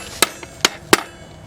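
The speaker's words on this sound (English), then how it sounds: "Get a hammer," A hammer taps a bolt into a Rockshox Kage rear shock during installation, three sharp metallic knocks spaced roughly evenly with a softer tap between the first two, close and clear with no talking.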